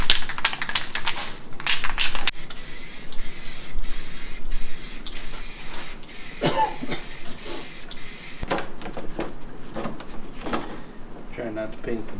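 A rattle can sprays black paint onto a shop shelf in close, loud hissing bursts of varying length, with rattling and clicking between passes.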